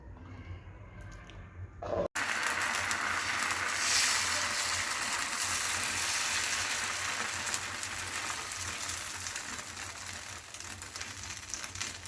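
Rice and red lentil batter for sharu pitha cooking in a wok, a steady soft hiss and crackle that runs on alone after a brief quiet opening.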